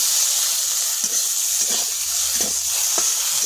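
Vegetables fry in hot oil in a village kitchen, a steady bright sizzle with a few soft stirring scrapes and clinks scattered through.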